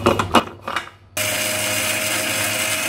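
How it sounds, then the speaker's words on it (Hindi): A few rattling knocks and shakes of whole pickle spices for mango achar, then an electric chopper starts abruptly and whirs loud and steady as it grinds the masala coarsely. "इसलिए हम इसको चॉपर में चला रहे हैं"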